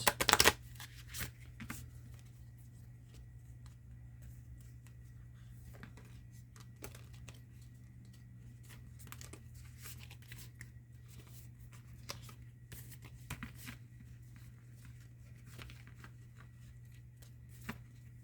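Tarot cards being shuffled indoors: a brief crisp flurry at the start, then faint, sparse riffles and taps over a steady low hum, quiet throughout.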